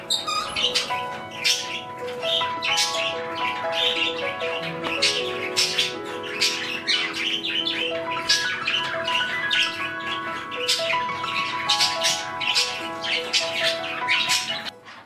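Budgies chirp and squawk indoors, one of them an active, playful young bird. Quick bright tweets and warbles repeat almost nonstop over a faint low hum, close and fairly loud, with no talking.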